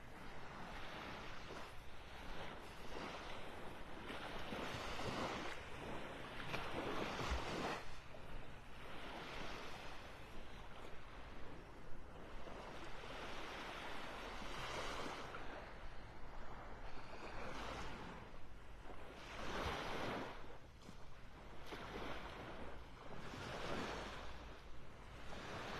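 Waves rolling onto a beach in North Naples, Florida on a morning walk, faint steady surf washing in and out with some wind buffeting the microphone.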